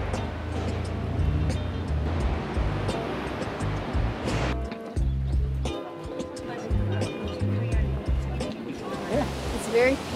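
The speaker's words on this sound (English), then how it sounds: "The sound of the river is just very serene." A river near Nikko, Japan, rushes in a continuous, fairly close wash of flowing water with a few knocks and dips, while people talk over it.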